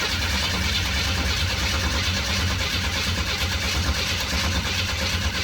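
A classic Chevy engine, parked for years and boosted by a jump pack, running steadily and loud with a constant low rumble and dense broadband noise throughout, no voices over it.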